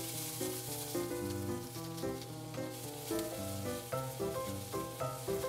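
Vegetables and thawed tsukune chicken meatballs sizzle steadily in a pan, a constant frying hiss running beneath prominent background music.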